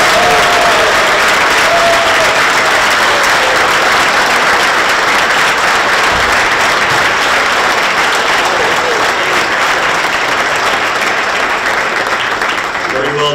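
Hall of fame inductees receive a long, loud round of audience applause at a sports induction ceremony, dense continuous clapping with crowd murmur filling the whole stretch and barely fading toward the end.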